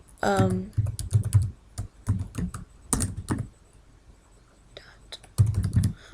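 Keystrokes on a computer keyboard while entering a remote desktop connection, quick clicky taps in short bursts, close and fairly loud, with someone talking over and between them.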